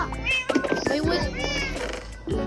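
Meowing from a cat in the Minecraft video game, several short synthetic meows over a steady background hum, with other game sounds mixed in.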